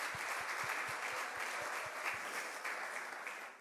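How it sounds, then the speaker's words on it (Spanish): A church congregation claps together in steady, dense applause, with soft rhythmic thumps underneath and no voices. "Aplausos para nuestro Señor."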